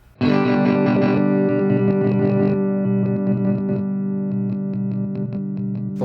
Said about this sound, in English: when it's turned down, it sounds more like a CD skipping.